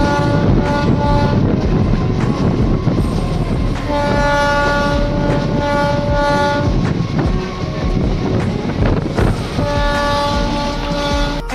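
A train at Chennai Egmore railway station sounds its horn in long, loud blasts over the rumble and rhythmic clatter of wheels on track, close and dominant throughout.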